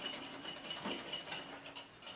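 Mayonnaise is whisked by hand in a bowl the old-fashioned way as oil is added, giving a quiet, steady rhythmic clicking and tapping of the whisk against the bowl.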